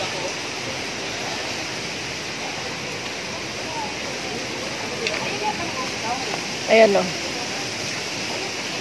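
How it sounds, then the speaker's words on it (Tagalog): Running water of a hot spring, a steady broadband rush of flowing water held at an even level, with a brief voice breaking in near the end. "Hot spring siya pero running water yan."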